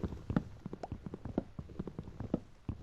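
Footsteps in the Minecraft video game tap out a brisk, regular walking rhythm of soft thuds, fairly quiet and close, with no talk over them.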